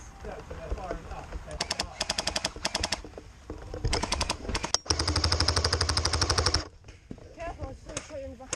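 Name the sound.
airsoft guns firing during a skirmish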